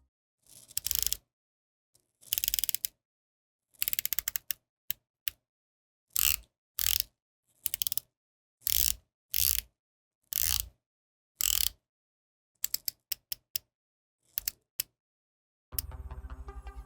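A Seiko watch's black and gold ceramic bezel insert is turned in short bursts of light, crisp ratcheting clicks separated by silent pauses, close up with no talking.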